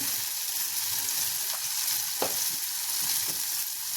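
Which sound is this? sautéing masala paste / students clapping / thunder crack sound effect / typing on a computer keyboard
sautéing masala paste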